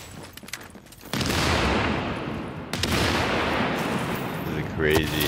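Loud pistol gunfire in a Lincoln Tunnel fight from The Division, scattered shots at first, then a sustained heavy barrage with echoing booms, and a voice briefly near the end.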